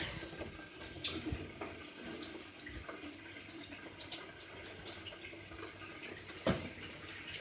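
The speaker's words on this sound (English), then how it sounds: "Just filling the water up again with hot water and dish soap to clear the pipes." Hot water with dish soap runs steadily into a sink with a partially blocked drain, a continuous faint splashing and trickling with occasional louder drips and knocks, no talk.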